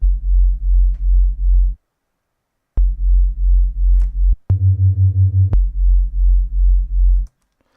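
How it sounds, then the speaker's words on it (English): Two sine waves detuned a semitone apart make a low, wobbly bass for jungle, drum and bass, rave and deep dubstep; loud pulsing sustained notes, one long held and one brief higher note among them, separated by silences. "It's just two sine waves, detuned to semitone apart like this"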